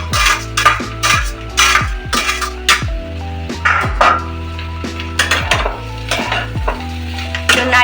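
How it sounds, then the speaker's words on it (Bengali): Boiled minced meat frying in a pan with onion, tomato and green chilli is stirred with a utensil, giving steady rhythmic scrapes and clanks against the pan over a soft sizzle, with no talking. "কিমাটাকে আমি এর মধ্যে দিয়ে দিলাম।"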